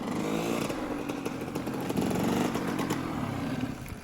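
Motorcycle engine droning steadily through wheelie practice, a sustained buzzy roar with slight throttle variation, fairly close and continuous with no talk.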